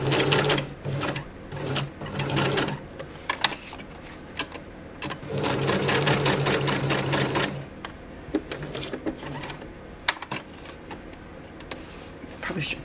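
A sewing machine stitches zigzag on scrap paper and fabric in several short runs of rapid, close mechanical whirring separated by pauses, with a voice talking in between.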